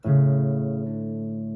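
A single low bass guitar note is tapped and rings with steady harmonics, its volume dying off gradually over about a second and a half.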